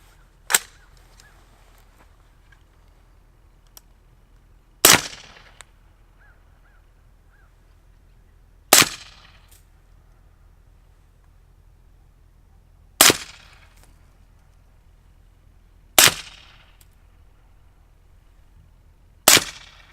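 Six sharp, loud cracks of a rifle firing 175 grain subsonic 277 Wolverine bullets loaded over Shooter's World Blackout powder, spaced several seconds apart, each with a short ringing tail and quiet between shots.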